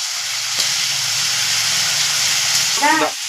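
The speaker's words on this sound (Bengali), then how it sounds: "আদা কাঁচা লঙ্কা দিয়ে একটু নেড়ে নিলাম" Ginger and green chilli frying in oil and being stirred, a steady loud hiss of sizzling with a soft knock and a brief vocal sound near the end.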